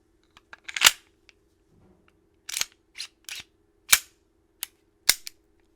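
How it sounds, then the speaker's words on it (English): Sharp, loud pops from an airsoft M1911 pistol, about seven spaced single shots with uneven gaps between them, each with a crisp snap, over a faint steady hum and quiet handling noise. "I just got an M1911 pistol."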